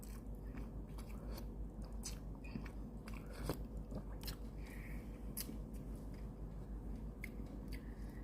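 Close, continuous chewing and biting of Thai tom yum instant noodles with rice, with soft crunches and wet mouth sounds repeating steadily throughout, no talking.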